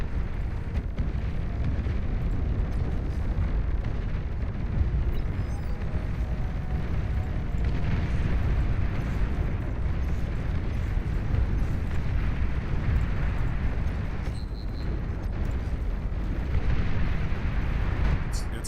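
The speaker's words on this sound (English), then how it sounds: "We are losing them all to a D-gun. We are getting D-gun to death" Heavy D-gun explosions from a real-time strategy battle in the video game, a dense, continuous rumbling roar of blasts and bursts that stays loud and close for the whole stretch, with no clear gaps between impacts.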